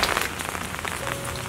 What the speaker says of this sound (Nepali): पानी पर्न लागेको छ